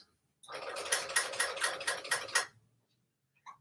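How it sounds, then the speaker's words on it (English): Serger sewing machine stitching along a folded kaftan neckline on its free arm: a close, rapid burst of mechanical ticking lasting about two seconds, then a brief stop. "using the free arm of the machine to wrap around, I can just sew right along that fold"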